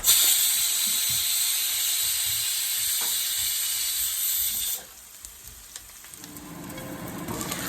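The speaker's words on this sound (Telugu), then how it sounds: "ఆనియన్ ఫ్రై అవుతూ ఉన్నాయి" Loud hissing sizzle of onions hitting hot oil tempered with cumin and mustard seeds, then it drops suddenly and settles into a quieter, lower frying sound with a few clicks.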